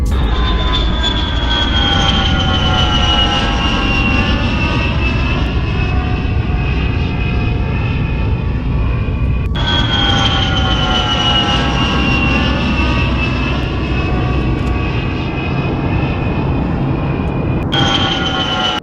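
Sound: passenger airplane in flight from Kochi to Bangalore

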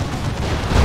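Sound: demolisher cannon firing in Warhammer 40,000: Dawn of War 2 video game

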